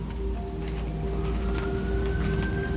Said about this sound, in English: Got sirens going down my road right now.